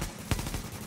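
A short burst of video-game gunfire in a multiplayer match, with a sharp shot near the middle standing out against a steady background of firing noise. No voices are heard.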